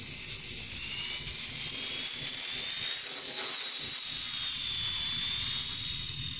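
A V922 remote-control helicopter flies nearby, its small rotor and motor giving a steady high-pitched whine and buzz that holds without a break.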